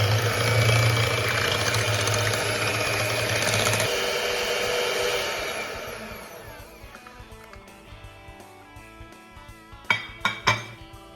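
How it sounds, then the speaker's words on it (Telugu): An electric hand beater whips a mango ice-cream base in a bowl, a loud steady motor whir for about four seconds that fades into scattered clinks of beaters and utensils against the bowl. "నేను ఇప్పుడు బీటర్ తోటి బీట్ చేస్తున్నాను"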